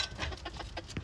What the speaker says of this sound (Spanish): Y estas son mis dos gallinas.